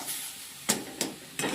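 Upma mixture and water stirred in a pan, three quick scraping strokes over a soft background hiss, close and fairly quiet.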